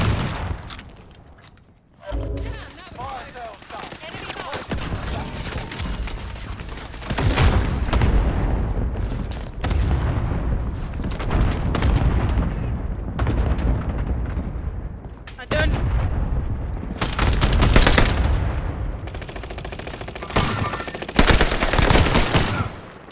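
Gunfire and sniper shots from the Call of Duty Warzone video game, with repeated bursts and booms across a busy battlefield mix and voices calling out at times.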